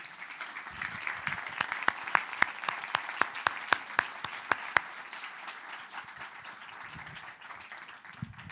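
An audience applauds to welcome a speaker onto a stage at a panel talk, a steady wash of many hands with a few sharp, loud claps standing out nearby before fading toward the end.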